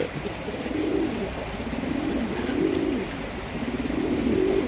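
Freshly bathed pet birds coo in a repeated, rhythmic, low burble over a steady background hiss, fairly close.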